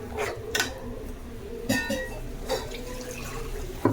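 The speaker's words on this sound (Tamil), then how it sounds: "எவ்வளோ குருமா வேணுமோ அவ்வளோ தண்ணி போட்டுக்குங்க." Water poured into a pot of mutton kofta gravy with ground coconut, a soft continuous splashing and trickling close by, with a few brief louder splashes.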